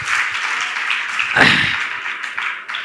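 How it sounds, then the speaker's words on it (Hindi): An audience at a Jain religious gathering with a monk applauds in a sustained, steady wash of clapping, with a brief louder burst partway through. "तालियां बजाइए आप"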